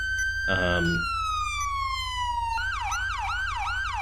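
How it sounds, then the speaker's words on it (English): A police car siren in FiveM, a game, wails in a long descending tone, then switches to a rapid repeating yelp; a brief voice-like burst cuts in early, over a low engine hum. "I'm not going to set up the equipment options on all this, but again, kind of different siren and all that."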